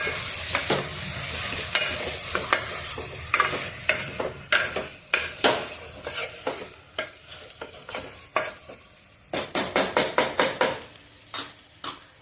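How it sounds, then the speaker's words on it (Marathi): Mutton rassa tossed inside a pressure cooker on a low gas flame, giving a string of sharp knocking and sliding clatters in irregular bursts. The clatters are loud and near, and toward the end they come in a quick run of separate hits. "माझं कुकर आहे ह्याला असं धरून हे टॉस करायचं गॅस लहान करायचा आहे परत एकदा हलवून घ्यायचं"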